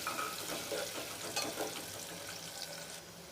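Onions sizzling in hot ghee in a pan for chole masala, a steady soft frying hiss with faint crackles throughout, fairly quiet and close.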